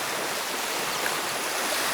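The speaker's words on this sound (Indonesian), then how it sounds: "dan ombak yang tenang" Steady, soft wash of gentle surf on a white-sand beach, a continuous broadband hiss with no distinct breaking crashes.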